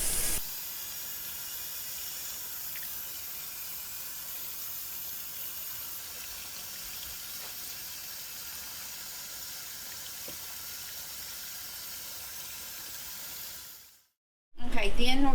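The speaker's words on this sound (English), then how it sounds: "first we're washing the berries and getting all the stems and leaves and junk" Tap water runs steadily into a sink while wild blackberries are washed and picked clean of stems and leaves, a constant close hiss that cuts off abruptly near the end before a brief burst resumes.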